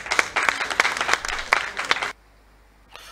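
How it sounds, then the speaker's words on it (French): A short burst of audience applause in a television news studio, with distinct claps rising and falling for about two seconds before cutting off abruptly into near silence. "Est-ce qu'on peut les applaudir, mesdames et messieurs?"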